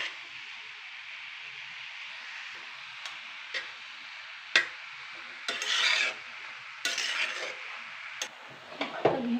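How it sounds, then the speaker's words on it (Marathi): Grated bottle gourd halwa is stirred in a wok with a spoon or spatula, giving close, intermittent scraping rasps and light ticks against the pan with short pauses between strokes. "ह्याला सारखं चमचा किंवा उलटणं असेल ह्याने काय करायचं? सारखं हलवायचं."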